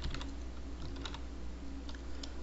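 Computer keyboard keys clack in quick, uneven bursts during a Python coding lesson, close and fairly quiet over a steady low hum, with no talking.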